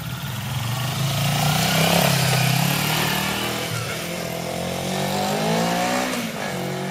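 A motorcycle ridden around a residential block, its engine note rising and falling at moderate distance as it passes and moves off, steady throughout, with some voice-like murmur underneath.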